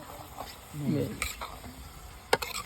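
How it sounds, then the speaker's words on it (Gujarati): Food stirred and frying in a kadai outdoors, with a soft steady sizzle and scraping stirring sounds, plus a couple of sharp metallic clinks near the end; close, with faint background voices. "બરોબર મિક્સ કરો."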